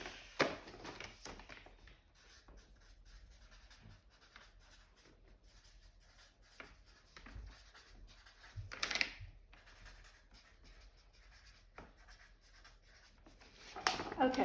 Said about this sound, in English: If I just write that out,